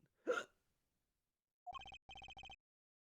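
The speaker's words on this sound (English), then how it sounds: "I have the hiccups." A game character in Apollo Justice Trilogy lets out a single close hiccup, followed after a pause by two bursts of bright, rapid electronic chiming.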